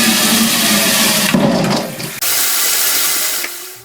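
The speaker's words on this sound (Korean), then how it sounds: "그래서 찬물에 헹굼을 해주고 찬물에 담가줍니다" Cold water runs steadily from a tap for several seconds, splashing as chestnuts are rinsed beneath it, with a brief shift in the flow midway.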